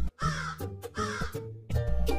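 A crow caws loud and close, several harsh calls in a row with brief gaps between them.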